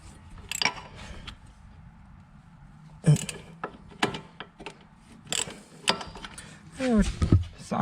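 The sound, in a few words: socket ratchet removing a 10mm bolt on a car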